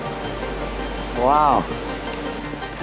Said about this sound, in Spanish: Se puede escuchar el sonido del río y estamos siguiendo.